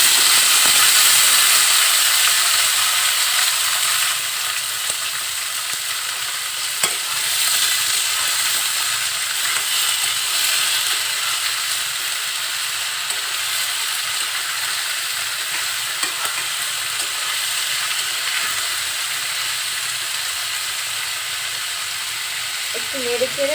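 Yardlong beans and potatoes fry in a pan, giving a steady close sizzle and hiss with occasional stirring clatters, continuing at an even level throughout.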